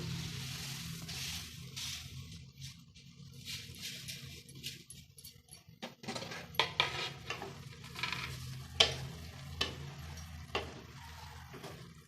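Vermicelli upma cooked with vegetables is stirred in a pot, giving soft scraping and sharp clinks of a spoon against metal that come irregularly and grow busier toward the end.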